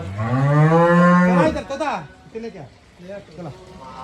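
A cow lets out one long, loud, low moo close by, followed by people talking.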